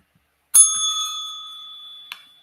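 A single bell rings out loud and clear with a sustained ringing tone that fades slowly, then gives a brief second tap near the end.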